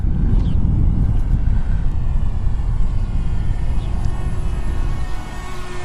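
A Loolinn Z6 Pro drone flies outdoors in gusty wind, its steady loud whirring buzz blending with heavy wind rumble on the microphone for the whole stretch.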